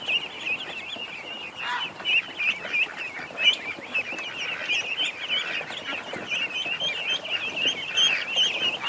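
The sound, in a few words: ducks quacking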